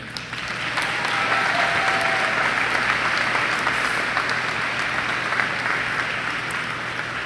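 Sustained clapping fills a school assembly hall as award winners are recognised: a full, continuous round of applause from many hands at a constant level.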